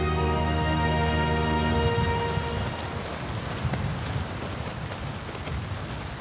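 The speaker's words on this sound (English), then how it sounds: "The rain can be incessant, bringing not just cold, but hunger too." Heavy rain in the Drakensberg mountains pours down in a dense, steady hiss, with a low droning tone fading out early on.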